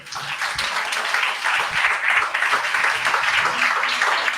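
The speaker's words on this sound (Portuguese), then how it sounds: "É um aplauso a Jesus" A church congregation claps and applauds continuously, a steady wash of hand claps at moderate volume throughout.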